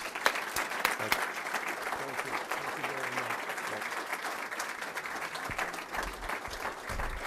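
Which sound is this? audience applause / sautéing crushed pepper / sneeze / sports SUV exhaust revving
audience applause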